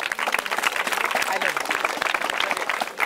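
An audience claps and cheers at a college freshers music event, dense steady applause lasting throughout, fairly close and lively, with voices mixed into the crowd noise.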